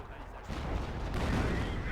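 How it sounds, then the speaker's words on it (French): Artillery shell striking a tank in a World War II strategy video game, a heavy booming impact that swells into a dense rumbling blast lasting about two seconds. "ton tank qui vient de se prendre un putain d'obus"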